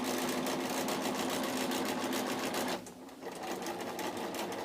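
Domestic sewing machine stitching patchwork quilt pieces together, a steady fast mechanical whir running close and loud, pausing briefly near the end before starting up again.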